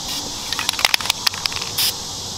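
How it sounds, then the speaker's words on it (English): An aerosol spray can hisses onto an AR15 rifle as it is repainted with a stencil, short bursts and clicks ending in one brief sustained spray, close and fairly loud. "just do like one quick spray on this part"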